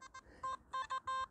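Simplex metal detector sweeping over a bit of copper wire in a deep-ploughed Highland field gives faint, repeated electronic beeps in short pulses of varying length, with quiet gaps between them.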